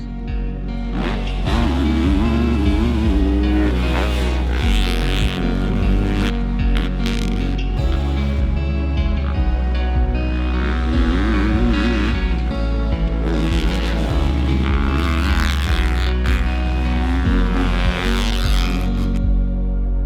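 A 2020 Yamaha YZ250F four-stroke dirt bike ridden hard through tight turns in second and third gear, its engine revving loud and close in rising and falling waves with no break in the sound.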